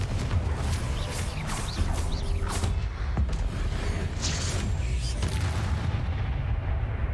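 Confringo explosive spell blasts in the Hogwarts Legacy video game, a dense run of booming, crackling impacts over a loud continuous rumble lasting the whole stretch, with a faint voice briefly under the din.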